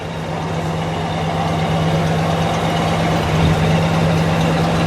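A 1967 Buick GS 400 convertible's engine runs close by with a steady, slightly elevated hum that rises a little midway, loud and continuous without speech.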